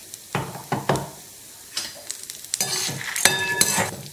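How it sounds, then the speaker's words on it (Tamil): Asafoetida and dried red chillies frying in sesame oil, with a few sharp utensil knocks and stirring scrapes, then a louder burst of crackling sizzle toward the end. "இந்த பெருங்காயம் வந்து நல்லா எண்ணெயில பொரியணும்."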